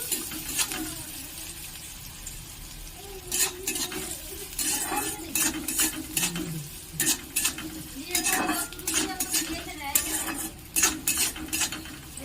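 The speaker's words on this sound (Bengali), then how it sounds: "পেঁয়াজটা খুব হালকা করে ভাজা ভাজা করে নেব।" Chopped onions fry in a pan, a soft sizzle under repeated, rhythmic scrapes and clinks of a spatula stirring against the metal, growing busier in the second half.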